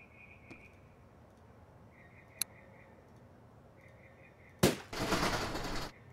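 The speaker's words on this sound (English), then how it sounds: "That kind of sounded like a gunshot." A sudden loud gunshot blast in the video game Dead Calm 2, followed by a second of harsh noisy rumble, after faint repeating ticks and a small click over quiet ambience.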